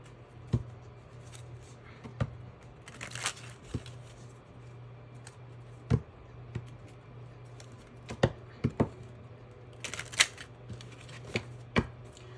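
Tarot cards are shuffled up close in sharp, irregular snaps and slaps, with quieter riffling in between and a low hum beneath.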